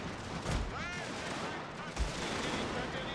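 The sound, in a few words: artillery fire in a Prussia strategy video game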